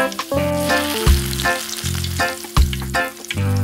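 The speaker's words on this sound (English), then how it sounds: "Remember to flip and fry all sides." Miniature potato fries crackle in hot oil in a tiny pan, the sizzle running steadily under loud, tuneful background music, with no talking.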